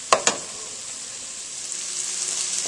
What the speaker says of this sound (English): just give them a stir.